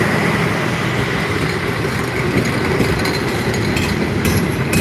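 The Banalata Express passenger train on the Rajshahi–Dhaka Airport nonstop route in Bangladesh rumbles past close by, a loud, continuous roar of wheels and carriages with no pause.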